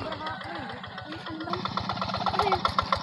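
A hand tractor engine climbs a rice field embankment, a steady close, rapid chugging thump running throughout, growing slightly louder near the end, while a person talks over it.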